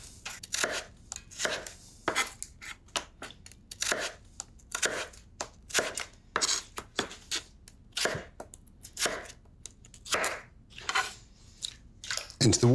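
A knife chops through raw potatoes on a cutting board, a close, steady run of crisp, rhythmic cuts that keeps going for several seconds with short pauses.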